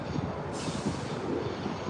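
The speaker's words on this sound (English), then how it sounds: "So I've got two electric trains. So we've got this one here arriving on one of the southern lines just in the distance there" An electric metro train arriving on a suburban line in Adelaide, a steady low rumble of wheels on rail with a rushing hiss that rises partway through, heard at a distance without voices.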